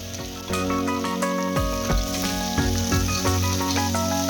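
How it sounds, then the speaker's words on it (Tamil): Sliced big onions hitting hot oil with fennel seeds, a bright continuous sizzle with several clanking ladle strikes against the pan at a steady rhythm, close and loud. "சோம்பு நல்லா பொரிஞ்சதும் நான் கட் பண்ணி வச்சுருக்க பெரிய வெங்காயத்தை ஆட் பண்ணிக்கிறேன்"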